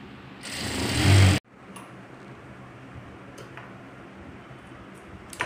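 A sewing machine stitching frills onto a pillow cover, a short loud burst of rapid mechanical stitching followed by quiet ticking and handling noises.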